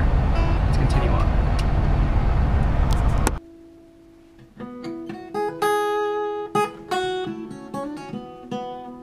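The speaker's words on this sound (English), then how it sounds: "So I'm on the bus right now, getting ready to go up to see her." Inside a moving bus, a dense low road-and-engine rumble fills the first few seconds, then cuts abruptly to quieter, tonal sounds.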